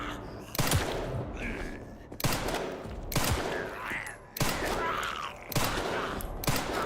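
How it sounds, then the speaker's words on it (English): Rapid bursts of gunfire from panic shooting in the Resident Evil Requiem video game on Insanity difficulty, five loud volleys in a row, each a burst of shots that briefly tails off before the next. "I'm panic shooting again"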